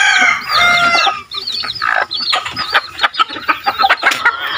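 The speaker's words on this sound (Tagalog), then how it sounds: "Daming manok mga idol." Chickens cluck busily and close by in a rural province, with a rooster crowing early on amid a flock's continuous chatter.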